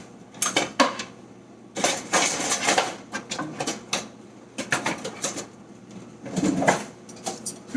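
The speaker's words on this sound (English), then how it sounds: "And you just want to kind of stir it." A utensil scrapes and clinks steadily against a pot as dry rice is stirred and toasted, giving dense, irregular metallic scraping strokes up close with no voices.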